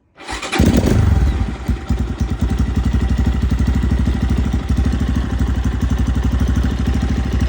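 A Templar X Pro motorcycle engine cranks and fires, then settles into a loud, steady, close idle with a rapid, even pulsing beat.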